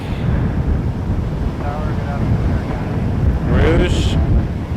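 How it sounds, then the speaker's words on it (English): Steady low rumbling wind buffeting the microphone throughout at Toronto Pearson Airport, with a brief voice and a distant aircraft engine tone rising near the end. "Getting windy."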